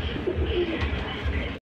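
German Beauty pigeons coo softly nearby, a few low rolling calls over a faint murmur of background noise.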